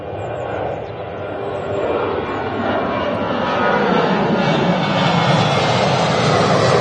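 Jet airliner, a Boeing 787 Dreamliner, arriving at Manchester Airport, its engine roar a continuous wash of sound that slowly builds in loudness over several seconds with no talk.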